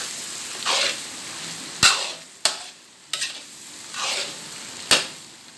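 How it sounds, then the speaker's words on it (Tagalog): Filipino bopis stirs and fries in a pan, a soft continuous sizzle broken by several sharp scraping clacks of a spoon against the metal at irregular intervals. "Halo-haluin lang po hanggang maluto. Yan po yung bopis."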